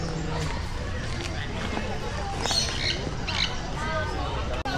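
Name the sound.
birds squawking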